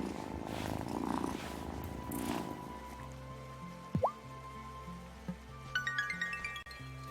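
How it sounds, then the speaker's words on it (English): A cat purring in the video game Wylde Flowers, a soft, steady low rumble under gentle game music, with watery drip-like plinks and a brief tonal chime later on. "Oh, what a good purr."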